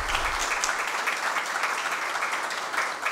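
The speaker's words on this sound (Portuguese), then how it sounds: "eu peço uma calorosa salva de palmas a essa mesa aqui" Audience applauding a panel seated at the front of an academic event, a steady sustained burst of many hands clapping that fills the room from start to finish at an even level, with no voices over it.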